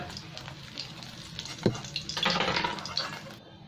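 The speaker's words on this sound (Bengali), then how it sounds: "এর মধ্যেই আমি এবার কালো জিরে আলু বেগুন দিয়ে সবজিগুলো ভালো করে ভেজে নেব।" Black cumin, potato and eggplant fry in hot oil in a pan. A quiet, hissing sizzle swells into a louder, crackling burst partway through, with one sharp clack before it and watery splashing mixed in.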